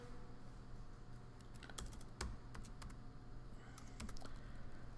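Computer keyboard in a programming lecture hall, with quiet bursts of key clicks and a few sharper taps of a cut-and-paste shortcut over faint room hum, and no talking.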